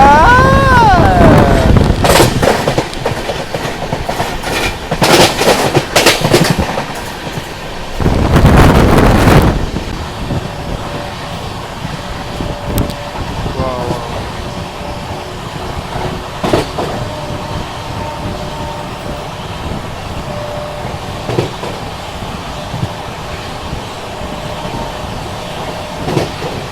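The Andhra Pradesh Express rolls steadily along the rails near Renigunta, a continuous rumble with rhythmic wheel clicks and strong wind buffeting at the start, loud and close throughout.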